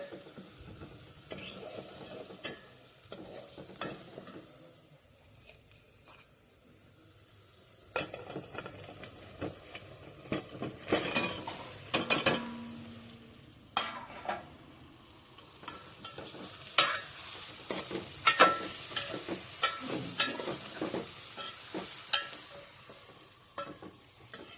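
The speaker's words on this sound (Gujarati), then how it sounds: "ગાઈસ આપણે હવે શાક વઘારીએ છીએ." Stuffed brinjal curry is tempered in a hot pan, a continuous sizzle of frying broken by irregular scraping and clattering stirs, fairly close, with no one talking.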